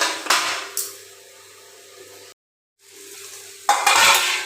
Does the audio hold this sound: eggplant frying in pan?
yes